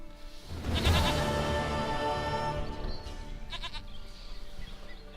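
A goat bleats loudly in The Witcher 3, a wavering cry near the start followed by a shorter second bleat, set over steady game ambience with no talk.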